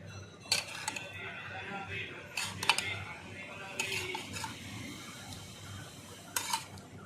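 Pieces of fish added to a pot of simmering taro gravy, heard as a series of sharp metallic clinks and scrapes of a utensil against the pot, irregularly spaced over a soft background bubble.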